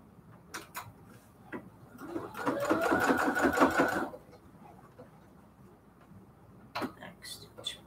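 A sewing machine runs in a short, close burst of rapid stitching while sewing a quilted cathedral window pillow case, with sparse clicks and handling noises before and after and a voice speaking nearby.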